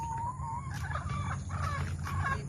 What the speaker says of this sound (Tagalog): Ang Mami Neri nagpapatuka ng kanyang mga chicken